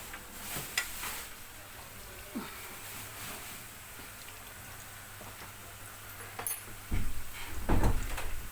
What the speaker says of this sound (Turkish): Sonuncu tava kızarıyor arkadaşlar.